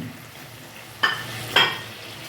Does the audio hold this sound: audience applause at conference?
no